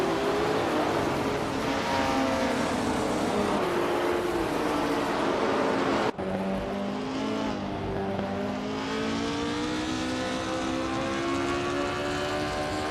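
Classic race cars, including a 1969 Porsche 908/2 Spider and a 1967 Ferrari 330 P4, in a racing video game: loud continuous engine roar with rising and falling revs and gear changes, a brief cut midway, no talk.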